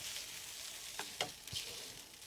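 Chicken, mushroom and pepper stir fry sizzles in a frying pan at a campsite, a soft steady hiss with a few faint clinks and stirring knocks, quiet and close.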